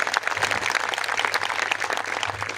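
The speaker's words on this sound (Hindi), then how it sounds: "एक बार जोरदार तालियां सुनील जी के लिए बजा दीजिए" A live comedy audience gives loud applause for Sunil ji. The dense, crackling clapping fills the whole moment at a steady level with no pauses.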